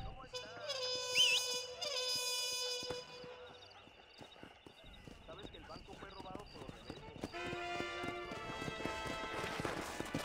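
A horse in the video game Red Dead Redemption, with hoof clip-clops, a whinny and game sounds mixed with music-like tones, fairly quiet overall.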